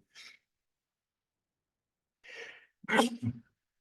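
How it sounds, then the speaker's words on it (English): A sharp intake of breath, a pause, then a loud sneeze bursts out close by, followed by a short trailing exhale. "I'm going to sneeze, so excuse me."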